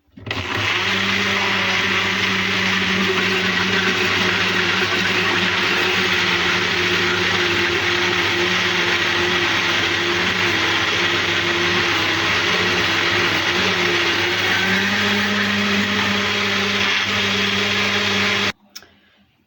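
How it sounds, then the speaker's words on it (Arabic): An electric mixer beats eggs, sugar, lemon zest and a pinch of salt as oil is added gradually for a layer cake, a loud steady whirring drone close by that runs continuously, then cuts off near the end. "غنزيد هنايا الزيت وانا كنطحن، كندير شويه بشويه وكنطحن"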